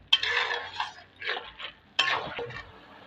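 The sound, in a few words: stirring fried bundiya in a pan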